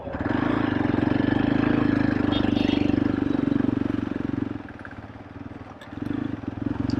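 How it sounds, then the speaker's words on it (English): A Hero Xpulse 200 motorcycle pulls in fourth gear, its engine droning steadily near the rider before easing off around the fifth second and picking up again at the end. "Let's see the pickup from fourth gear."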